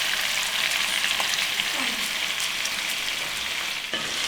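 Food seasoned with turmeric powder and salt fries and is stirred in a pan, a loud, close, continuous sizzle with light scraping of the spoon running throughout.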